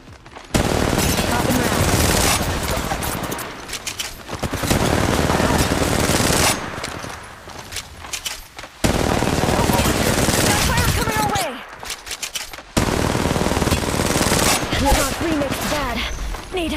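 Rapid automatic gunfire in a first-person battle royale match of Apex Legends Mobile, loud sustained bursts separated by brief pauses, with game sounds and a voice talking over it.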